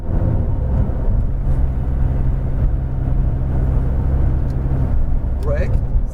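A McLaren 570S engine hums low and steady as the car rolls around a track. The continuous drone stays close and fairly loud, and a voice talks over it.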